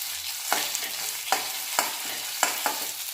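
Onions frying with ginger paste, chillies and garlic in a pan, a steady close sizzle broken by several sharp scrapes of a spatula stirring at irregular intervals, no talk.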